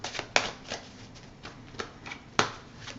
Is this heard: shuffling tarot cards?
yes